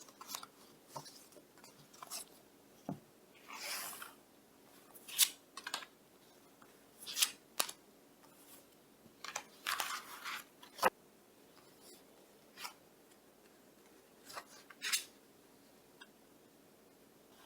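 Tarot cards are drawn and handled in a quiet room, with sparse crisp shuffling swishes, soft card slides and light taps coming in short irregular bursts between near-silence.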